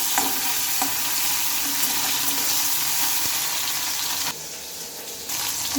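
Chopped tomato and green chillies being stirred in a frying pan over cumin, a soft sizzle with occasional utensil scrapes and clicks, fairly quiet and steady, no voices.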